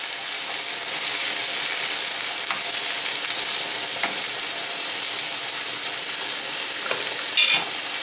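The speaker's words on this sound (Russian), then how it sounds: "Теперь я отправляю в сковороду 2-ю порцию лука и болгарский перец. Теперь я буду их обжаривать." Onions and bell peppers sizzle in a frying pan, a steady soft crackle with a few light stirring scrapes, close by and without talking.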